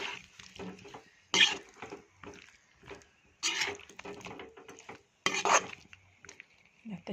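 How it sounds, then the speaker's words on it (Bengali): Fried potatoes being stirred into chicken curry in a pot make intermittent scraping and clattering bursts close up, separated by quieter gaps. "আর এখানে ভেজে রাখা আলু দিয়ে দেব। আলু দিয়ে আবার 5 মিনিট যখন লাড়ালাড়ি করব,"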